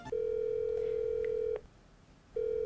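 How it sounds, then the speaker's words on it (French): A telephone line carries a steady tone that breaks off with a click, followed by a short pause and then the tone returning, a close and clear signal with no talking. "Ça sonne occupé."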